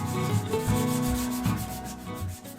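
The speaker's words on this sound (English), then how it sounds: "I can shine the frame with some emery cloth." Emery cloth rubs a steel mountain bike frame tube in steady, continuous strokes, a close, dry abrasive scraping with a few rising squeaky tones, no talking.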